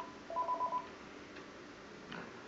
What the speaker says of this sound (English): we got a telephone ringing